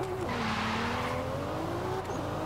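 The 1JZ engine of a Toyota Soarer in Forza Horizon 5 holds a steady, droning rev with a slowly shifting pitch, running loud and continuous for a couple of seconds.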